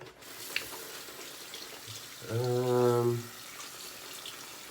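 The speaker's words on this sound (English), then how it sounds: "Still gonna add a little bit more water." A short burst of water running from a tap into shaving lather, about a second long, in an otherwise quiet room.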